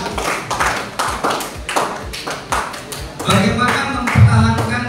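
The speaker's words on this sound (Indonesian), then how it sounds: "tepuk tangan dulu" Audience clapping along in a classroom-style talk session, rhythmic individual claps with thumps and some background voices, fairly close and moderately loud.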